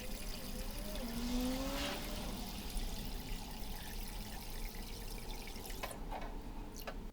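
Water pours steadily into the tank of an ultrasonic cleaner being filled, a continuous splashing rush at close range with no voices present.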